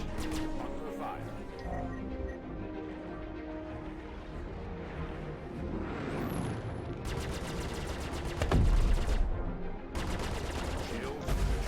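Rapid gunfire battering a ship's shields in the space game Star Citizen, bursts of dense rattling shots over a constant engine hum and game sounds.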